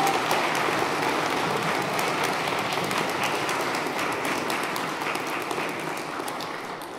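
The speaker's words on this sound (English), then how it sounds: "Let's give a big round of applause for our winners." Sustained applause from an audience at a seminary commencement ceremony as prize winners are honored, a dense, steady clapping that fills the whole stretch and fades only slightly near the end.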